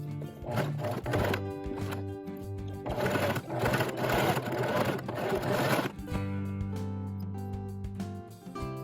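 A sewing machine stitches doll-sized mittens in bursts of rapid mechanical chatter, three runs of a few seconds each separated by short pauses, close and clear.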